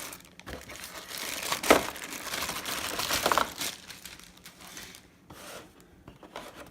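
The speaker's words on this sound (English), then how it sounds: "Let's get it out of the plastic." A Joule sous vide cooker is pulled free of its plastic wrap, with bursts of loud crinkling and crumpling close by, including two sharper crackles and quieter pauses between handling.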